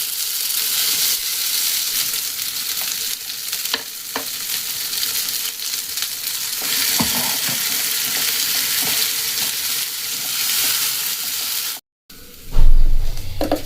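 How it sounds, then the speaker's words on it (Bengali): A ground paste of ginger, cumin and green chili fries in a pan, giving a loud, steady sizzle with occasional stirring scrapes before a brief cut and a louder clatter. "ভেজে নেব।"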